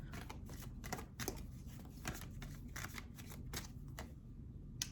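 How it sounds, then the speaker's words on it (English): Oracle cards being shuffled by hand, a steady run of soft papery riffles and flicks repeating through the whole stretch with no talking. "let me pull you an oracle card too"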